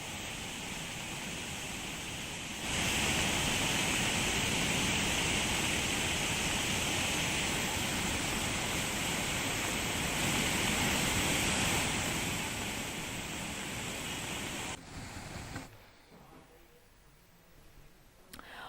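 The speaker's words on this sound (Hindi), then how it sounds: "आप देख सकते हैं कि पानी किस तरीके से बह रहा है।" Heavy floodwater rushing through Jamnagar, Gujarat after torrential rain: a loud, steady broadband roar of flowing water that holds for most of the stretch, then drops off sharply near the end.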